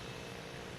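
Embraer E-175 jet aircraft at Boston Logan Airport, a steady broadband engine roar, faint and distant, with no talking.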